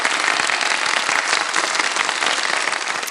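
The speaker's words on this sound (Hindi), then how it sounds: "तालियां बजा दें ताकि मुकाबले का बाकायदा आगाज" Studio audience at an Urdu Ramadan quiz show breaks into sustained, dense applause, steady and loud from start to finish with no voices over it.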